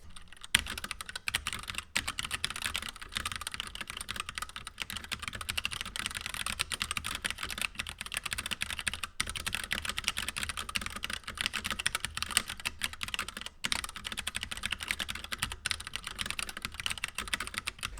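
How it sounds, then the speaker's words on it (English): Rapid, continuous clacking of a Keychron K6 mechanical keyboard being typed on, close and steady with crisp individual keystrokes throughout. "now you're going to hear a typing test of the Keychron K6 keyboard"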